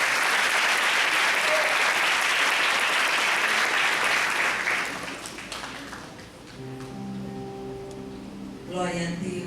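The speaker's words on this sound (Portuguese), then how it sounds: "Vamos aplaudir o Senhor." A church congregation applauds in dense, steady clapping for about five seconds before it thins and fades, and a voice with sustained tones follows near the end.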